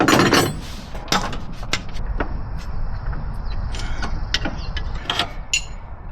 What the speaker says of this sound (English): Let's go get a wrench and tighten it up, I guess.